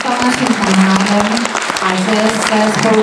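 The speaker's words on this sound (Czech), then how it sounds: "velký potlesk, prosím vás" Applause at a school and association academy event, with sharp individual claps close by under a voice talking over the crowd throughout.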